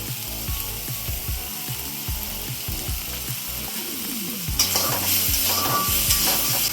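Food frying in a pan is stirred with quick scraping strokes over a steady sizzle, and salt is added as it cooks. The sizzle grows louder and brighter toward the end.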